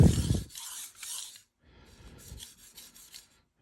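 A knife is sharpened on a King 300 splash-and-go water stone with a couple of short rasping strokes, close and fairly quiet, separated by brief pauses.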